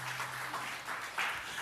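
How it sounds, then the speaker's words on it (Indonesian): A church congregation claps together during a sermon, a faint, distant wash of applause with a brief swell near the end. "Tepuk tangan yang meriah bagi Tuhan Yesus."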